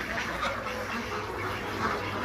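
Ducks quack on a small hobby farm, a steady close chorus of calls over continuous farmyard noise.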